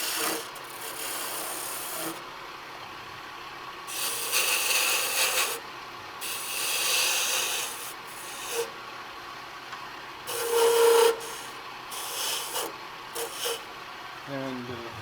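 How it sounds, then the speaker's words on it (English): A skew chisel cuts a dovetail tenon in wood, making several rasping, scraping bursts of varying length separated by short pauses, close and fairly loud, with talking at times. "Another way to get nice dovetail tenons is with the skew"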